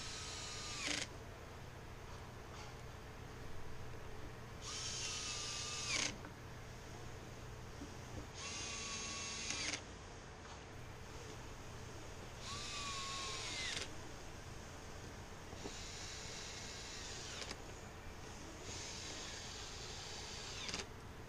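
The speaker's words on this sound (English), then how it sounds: "It's probably not a good idea to use the impact driver on these. I got it set to a pretty low setting." Impact driver on a low setting tightens screws during a Husqvarna 450x Automower main board swap, giving several separate bursts of whirring and rattling, each about a second long, spaced a few seconds apart against a quiet background.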